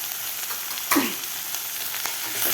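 A spiced mixture with homemade black masala and salt is sautéed in a pan, producing a steady close sizzle with a brief scraping stir near the start and a fainter one later, no speech.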